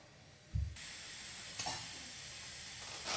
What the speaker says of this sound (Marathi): आता झाकण ठेवूया आणि एक 5 मिनिट आपण ह्याला मस्त वाफ देऊन घेऊया